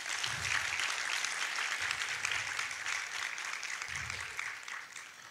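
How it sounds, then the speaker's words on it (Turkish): An audience claps at the opening night of an international workers' film festival, a steady, fairly soft wash of applause in a hall with some low thumps underneath, no voices over it. "Kendinize güzel bir alkış lütfen."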